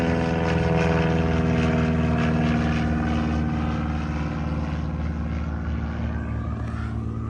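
Propeller aircraft departing at the Oshkosh airshow, a steady loud droning engine hum with strong harmonic tones held throughout, slowly fading toward the end.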